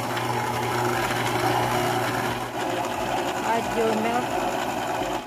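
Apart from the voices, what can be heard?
electric mixer mixing butter and cream cheese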